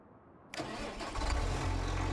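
A new tractor engine in a farming video game cranks and catches with a sudden start, then settles into a loud, steady rumbling idle that swells slightly.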